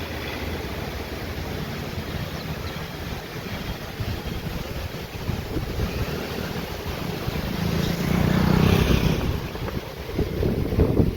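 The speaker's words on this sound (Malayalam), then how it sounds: "കാറ്റ് അതിജാതി കാറ്റ്" Strong wind on a highway in Tamil Nadu roars continuously across the microphone, a rough, buffeting rush that swells louder for a moment near the end.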